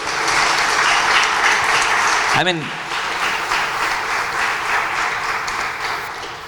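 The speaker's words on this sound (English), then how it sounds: "Can we have a huge round of applause?" Loud, sustained applause from a large audience at a talk on remote voting, steady throughout, with a brief spoken phrase and a quick electronic sweep near the middle.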